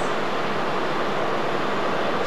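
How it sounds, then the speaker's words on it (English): A loud, steady broadband rumble and rush of a train moving along the tracks between Pisa and Florence, continuous throughout with no voices. "We're getting ready to board the train to go to Florence."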